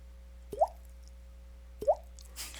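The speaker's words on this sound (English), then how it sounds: "water dripping" Two water drops plop one after another about a second apart, each a short clear bright drip against a quiet low hum, with a soft brief rustle just after the second.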